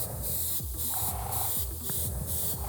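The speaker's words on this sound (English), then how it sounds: "Turn on my airbrush" An airbrush sprays black paint onto a Halloween ghost trap prop with a loud, continuous close-up hiss that pulses in rhythmic bursts as the trigger is worked, and a low mechanical rumble runs underneath.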